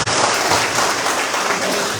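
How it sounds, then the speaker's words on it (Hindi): A rally crowd in Surajmani Nagar, Tripura, bursts into dense, steady applause for the women present, a loud continuous wash of clapping that holds for the whole stretch with no talk over it. "बहनों के लिए ताली तो होनी चाहिए।"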